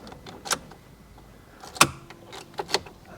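A 2012 Ford Fiesta 1.4 TDCi diesel's ignition key is turned off and back on, giving a few sharp key clicks and a brief metallic jangle in a quiet car cabin, with no engine start.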